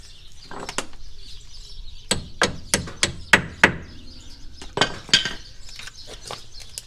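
Wrench work on a bolt in a Ford Ranger upper A-arm during a lift install: a series of sharp metallic knocks and clicks in irregular bursts, fairly close, with no talk.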